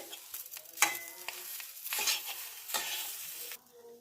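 Semolina upma cooking in a pan as water is poured in little by little, giving a busy hiss and sizzle with repeated stirring scrapes and clinks, loud and close.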